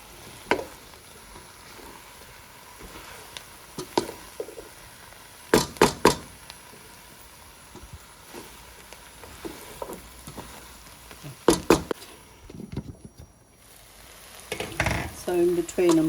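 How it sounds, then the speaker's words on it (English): Spiced potato and cauliflower aloo gobi frying in a pan, a low steady sizzle broken by a few sharp knocks and scrapes of a spoon stirring, with a quieter stretch before the frying resumes. "So in between I'm just going to give it a stir, just mix it."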